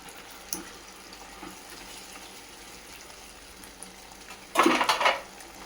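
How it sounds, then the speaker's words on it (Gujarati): Paneer being stirred into bubbling gravy in a pan for restaurant-style chili paneer: near silence, then a short burst of metallic scraping and clatter near the end. "એમાં આપણે પનીર નાખી દઈએ અને આને 2 થી 3 મિનિટ માટે આપણે મિક્સ કરી લઈશું"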